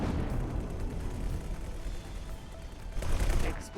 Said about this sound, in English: This is about to explode.